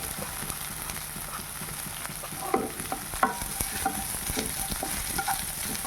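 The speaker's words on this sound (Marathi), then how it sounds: "कांदा एक चिरलेला आहे तो टाकायचा आहे" Chopped onion frying in a pan over a low gas flame and being stirred, a steady close sizzle with occasional scrapes and knocks of the spoon, continuous throughout without any talking.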